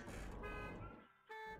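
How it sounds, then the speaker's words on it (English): A car horn in a multiplayer video game sounds in sustained tonal blasts, one long honk, a brief dip, then another starting, heard faintly in the game mix. "I'm gonna keep honking at you."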